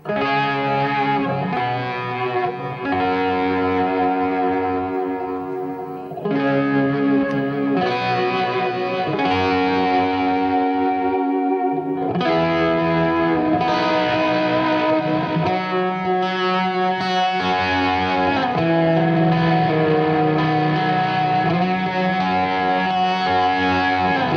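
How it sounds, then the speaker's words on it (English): Distorted electric guitar rings out with heavy, long delay repeats and chorus shimmer, sustained and loud throughout with brief pauses between phrases. "it works really great with the big delay sound we have"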